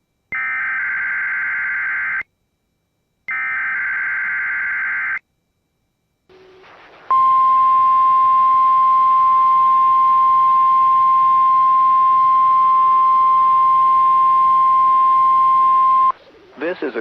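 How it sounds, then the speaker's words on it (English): NOAA weather radio broadcast: two long steady alert tone bursts separated by brief silence, followed by a loud sustained single-pitch warning alarm test tone lasting about nine seconds before cutting off. "This is a test of the National Weather Service weather radio warning alarm"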